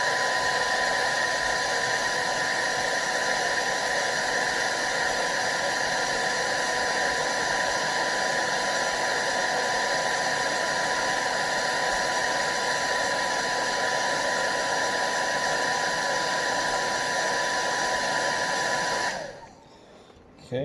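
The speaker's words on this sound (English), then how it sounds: "repeat the process once again with the hair dryer for about 15 seconds on high" A hair dryer blows on high while heating a sticker on a Star Wars Retro Collection item, a loud, steady whooshing drone with a whining tone that runs unbroken for about nineteen seconds before switching off abruptly.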